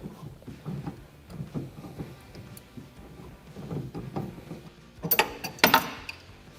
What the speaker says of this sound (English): I like to get a pipe wrench. We're just going to slide it on the inner ball and socket.